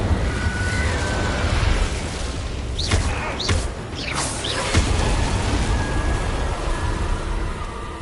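Fire spells are cast repeatedly in a wizarding video game, a series of whooshing bursts and crackling flares clustered in the middle of a steady, noisy game soundscape, with no talking.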